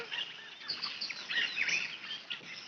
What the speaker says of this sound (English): using a public domain environment nature recording of birds chirping